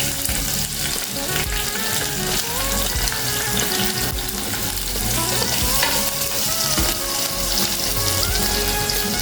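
Onions and green chilies frying and stirred in a pan with hot oil for majjiga pulusu, a steady close sizzle with scraping stir strokes throughout, no talking.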